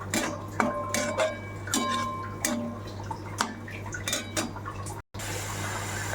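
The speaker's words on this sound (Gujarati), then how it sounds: "આ રીતે દૂધ બળી જાય ત્યાં સુધી આપણે એને મિક્સ કરીશું." Milk reducing in a pot on the stove, with repeated metallic clinks and scrapes of a spoon against the pot over a low steady hum, plus faint liquid sounds.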